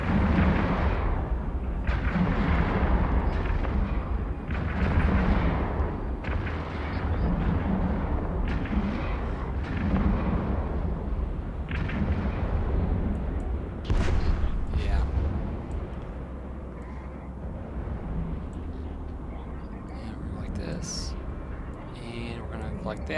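Heavy, booming cannon-like gunfire shooting at an enemy in a video game, repeated loud blasts through most of the stretch, fading somewhat toward the end, with a voice talking over it.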